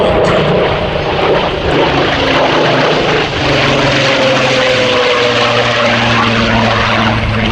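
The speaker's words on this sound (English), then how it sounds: "the high-altitude Spitfire aircraft powered by the Rolls-Royce" Supermarine Spitfire with its Rolls-Royce engine roars loud and steady at an air festival, a continuous heavy propeller drone with a slowly shifting pitch throughout, no voices.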